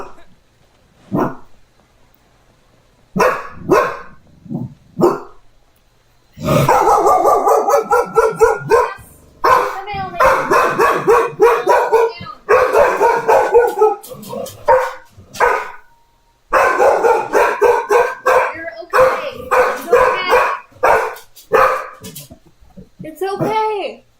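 A dog barks and growls at a FedEx delivery person arriving at the house, loud close bursts of repeated barking with short pauses, mixed with a person talking.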